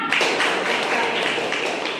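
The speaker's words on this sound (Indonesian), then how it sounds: "Oke, tepuk tangan." Students clapping hands together in a classroom, a steady run of quick, close claps lasting about two seconds with no talk.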